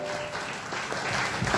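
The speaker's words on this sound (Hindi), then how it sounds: "तालियां जोरदार होना चाहिए एक बार" Audience applause at a Chhattisgarhi film award ceremony, dense steady clapping from a large crowd, loud and continuous throughout.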